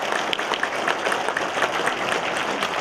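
A room full of people at a press conference applauds steadily, a dense patter of clapping with no pauses and no voices on top.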